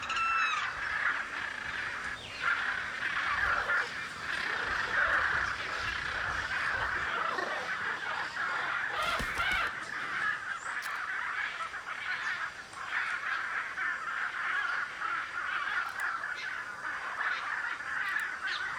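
A flock of macaws in Brazil keeps up harsh, honking squawks and calls, dense and overlapping, with one brief loud burst midway and no talk.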